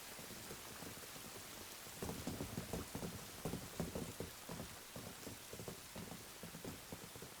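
Steady rain falls with dense patter on surfaces, growing heavier and more textured after the first couple of seconds, with faint low rumbling underneath.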